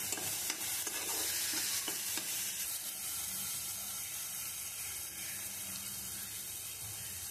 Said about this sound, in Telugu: దీన్ని బాగా కాసేపు పచ్చి వాసన పోయే వరకు బాగా ఫ్రై చేసుకోవాలి